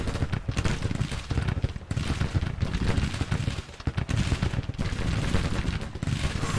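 Cannon bombardment in Grand Tactician: Civil War, a dense, continuous barrage of booming artillery fire with overlapping shots and rumbling blasts filling the whole stretch, loud and steady with brief dips.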